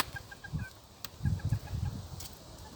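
Soft clucking from chickens nearby on a farm, a few short bursts of low cackles amid faint background noise and occasional higher chirps.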